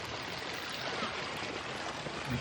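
Continuous rushing floodwater, a dense steady roar of flowing current without pauses, heard alone at moderate distance.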